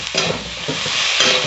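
Chopped onion, tomato and green chilli hitting hot oil in a pan while cooking egg ghugni: a short, close burst of sizzling with quick stirring scrapes, no voices.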